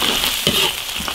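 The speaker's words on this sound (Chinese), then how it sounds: "所有的调料都把它炒香" Hot pot base, Sichuan peppercorns and dried chilies stir-fry in a big iron wok over a wood-fired stove, giving a dense, continuous sizzle with scraping stirring strokes close by.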